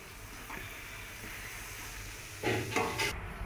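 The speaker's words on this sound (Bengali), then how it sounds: "এদিকে এটা পটলের পাকা পটলকে পুড়ে ভাজা করা হচ্ছে" Ripe pointed gourd fries in a pan with a steady, soft sizzle that swells into louder crackling bursts near the end, close by and with no voices.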